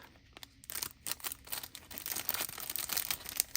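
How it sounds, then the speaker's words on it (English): Plastic sealing strip peeled off a plastic gift bag holding sublimated earrings, a run of close, crinkly tearing and crackling over about three and a half seconds, starting softly and getting busier. "Peel off the sealing strip."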